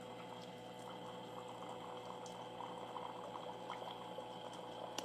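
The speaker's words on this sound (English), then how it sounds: "Water is coming out." A Meraki espresso machine set to 207 degrees dispenses hot water into a cup, giving a continuous bubbling, hissing gurgle over a low pump hum, steady and close throughout.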